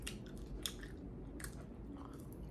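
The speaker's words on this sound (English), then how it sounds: "It's still a little rough to chew on this side." Someone chews food slowly on one side of the mouth while recovering from a dental issue, soft crunching bites and wet mastication close to the microphone, quiet and without talk.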